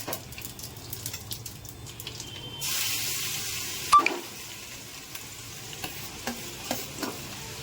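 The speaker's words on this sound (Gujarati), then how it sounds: "રાઈ જીરુંનો વઘાર કરવાનો" Mustard and cumin seeds crackle and sizzle in hot oil, with a burst of louder hissing midway and light stirring and clinks around it; no one speaks.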